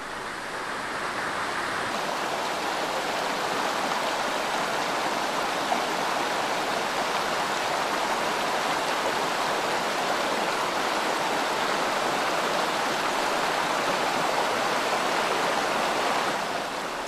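A mountain torrent, a small steep stream, rushes continuously with dense, steady roaring water noise, close and even throughout with no other sounds.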